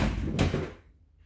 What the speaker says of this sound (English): I think my vacuum dropped.